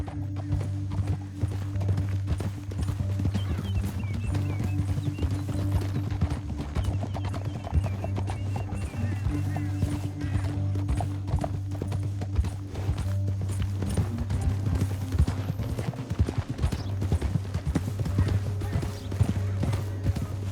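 Steady clip-clop of horse hooves at a fast, even gallop in the video game Red Dead Redemption II, continuous throughout, with a low droning rumble underneath.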